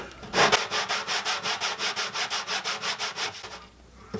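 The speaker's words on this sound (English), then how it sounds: "I'm going to sand this whole thing down again anyway" An ebony guitar bridge is hand-sanded, making about twenty even back-and-forth rasping strokes in a brisk rhythm, close and clear, before it stops.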